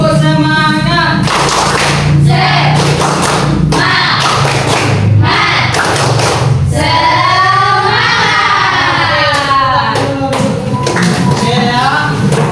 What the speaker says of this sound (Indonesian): Tepuk semangat ya. 1, 2, 3. Tepuk semangat.